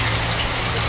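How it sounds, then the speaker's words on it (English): Rain falls steadily on a village in Kenya, a dense, even patter close by that fills the whole moment with no voices over it. "It just decided to rain"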